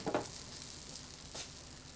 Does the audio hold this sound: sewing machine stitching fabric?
no